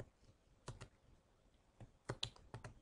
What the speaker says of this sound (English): On the next line, I'm going to type void